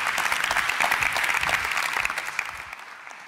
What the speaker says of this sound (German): das ist dein Applaus